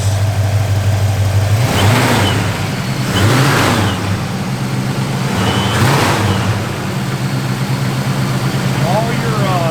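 A 1979 Chevrolet Camaro Z28 engine idles loudly nearby with a lumpy cam lope, swelling and easing in slow pulses, while someone talks over it.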